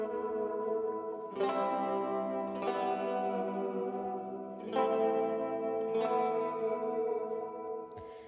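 Electric guitar chords run through a Waves Guitar Stomp plugin, ringing with a big, spacey wash of chorus, echo and reverb; four strummed hits swell and sustain into one another, loud and alone.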